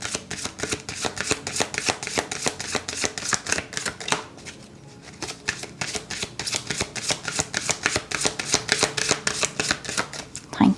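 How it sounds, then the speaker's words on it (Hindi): A deck of tarot cards is shuffled in a steady rapid riffle of crisp papery snaps, close and fairly loud, pausing briefly midway before resuming. "तो चलिए शफल करते हैं ऑप्शन 2 के लिए।"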